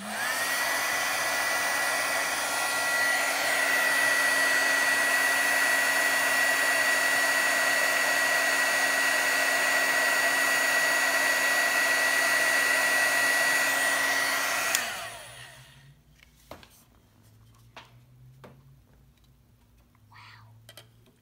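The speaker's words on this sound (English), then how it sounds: "So now I'm going to heat this up again, and it's going to turn shiny." A heat tool melting embossing powder blows a loud, constant whooshing hum for about fifteen seconds, then shuts off, leaving quiet ticks and light handling sounds.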